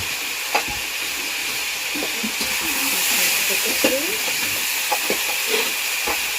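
Spices and garlic paste sauté in a pan with a loud, continuous hiss and sizzle, broken by several sharp spatula scrapes and knocks against the pan.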